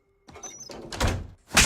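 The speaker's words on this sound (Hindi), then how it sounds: "अंदर और भी बहुत सोना है ना, मैं अंदर ही रहूंगी दरवाजा बंद करके।" A door is shut in a Hindi-dubbed Indian action film. Quiet rustling and creaks come first, then one loud, close thud near the end.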